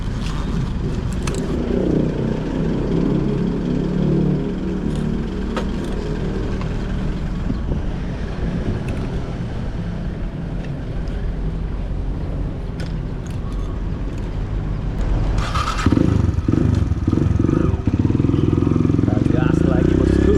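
A Kawasaki KLX 150 trail motorcycle revs during a drift test, its engine droning and surging with wind noise and clatter, growing louder near the end; a voice talks over it.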